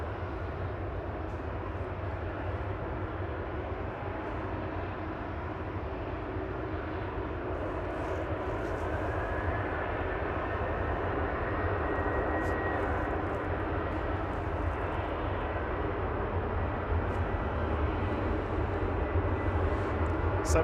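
A TUI passenger jet bound for Verona rolls for takeoff at Manchester Airport, a steady loud engine roar with a rising whine heard from nearby, continuous throughout.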